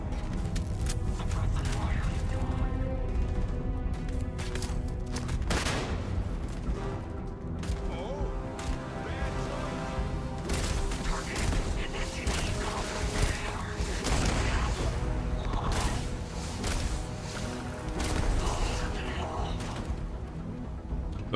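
Heavy gunfire from a hard-hitting, slow-firing gun in the video game Starfield booms in dense, continuous bursts, with a voice talking over the shooting.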